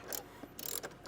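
A 10mm wrench backs off a battery terminal nut on a 2025 Chevrolet, making faint, quick metallic ratcheting clicks in short bursts, close by and with no talking.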